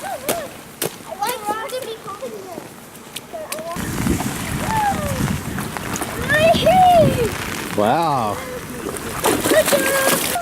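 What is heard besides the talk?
people splashing through a puddle in the rain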